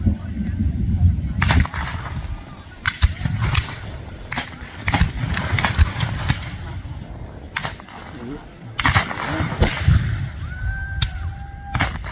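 Musket and cannon fire at a Civil War reenactment skirmish: irregular sharp reports, some single and some in quick clusters, rising from a steady rumble of wind and crowd noise, with faint voices in the background.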